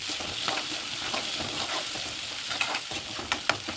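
Grated carrot, capsicum and chopped onion sautéing in hot oil for egg Maggi, a lively sizzle with a few sharp spatula scrapes and taps near the end.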